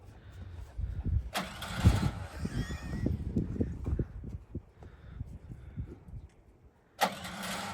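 An MTZ tractor engine cranks over and tries to start, loud, close and rough, with a burst of noise at the beginning and again near the end, under a busy outdoor setting.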